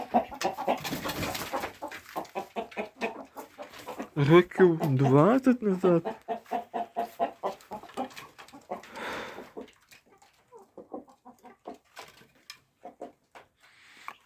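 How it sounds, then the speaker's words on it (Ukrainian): Laying hens cluck on a home farm, a run of rapid, close clucks with one louder drawn-out call in the middle, while a person talks nearby. "Кури у мене зараз несуться."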